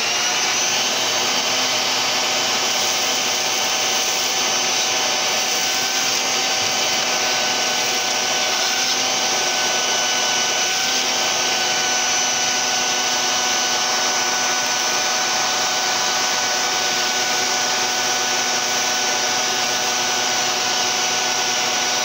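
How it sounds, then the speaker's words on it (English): A vacuum cleaner runs continuously at close range, a loud, steady whine with a constant motor hum and no pauses. "I'm going to stop and vacuum for a sec."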